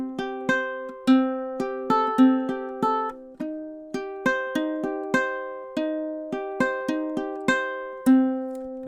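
Ukulele plucks out measures 9 to 12 of a song as a bright, close melody with sharp repeated attacks in a steady rhythm, played solo with no talking.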